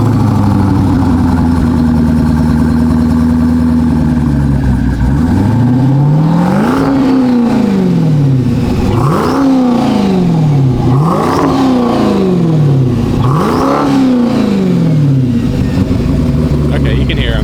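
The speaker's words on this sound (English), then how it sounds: "We got Brett in his twin charged Hellcat" Twin-charged Dodge Hellcat V8, twin 68 turbos plus supercharger, tuned to 900, rumbling at idle then revving hard in four rising, falling bursts, loud and close at a drag event, with background chatter.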